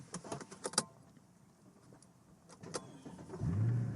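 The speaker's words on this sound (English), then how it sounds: "we're gonna start the car with the physical key" Keys jingle and click in the ignition of a W211 Mercedes, followed after a pause by the engine cranking and catching into a low idle.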